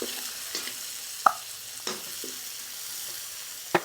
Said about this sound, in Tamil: கடலை பருப்பு இந்த அளவுக்கு செவந்ததும் வெங்காயம் போடுறோம்.